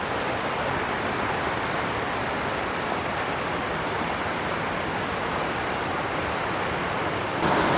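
Water of the Godavari river at Mothugudem flows in a steady, close, full rushing hiss that stays even and unbroken throughout, with no voices.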